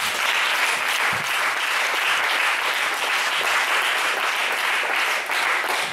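A church congregation applauding during a sermon, a dense, sustained roar of clapping from many hands that fills the whole stretch without pause and without speech.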